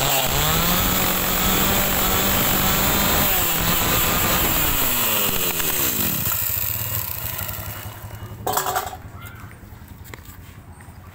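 A chainsaw engine runs loud and steady, revving a little, then cuts off and leaves quiet clatter and a soft thump.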